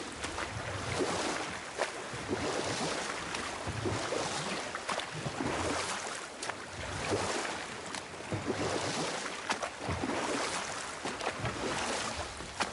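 Steady rushing water and lapping waves fill the scene in the video game God of War, with rhythmic splashes of oars pulling through water as a boat moves along.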